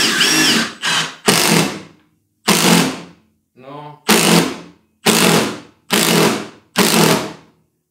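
A Milwaukee M18 FID3 cordless impact driver drives screws in a series of loud, close bursts of rapid hammering, each lasting under a second and separated by short pauses; one quieter burst runs in a different mode.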